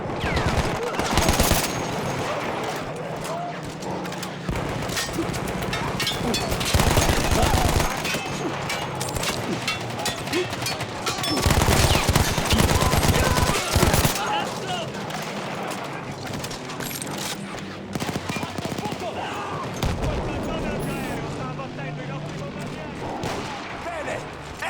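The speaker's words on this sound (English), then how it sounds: "I had to remove them before I could use the gun myself" Machine gun fire in Battlefield 1, a mounted gun taken over from Austro-Hungarian troops, sounds in long dense rattling bursts with booming explosions and artillery, loud and continuous across the whole stretch, with occasional voices mixed in.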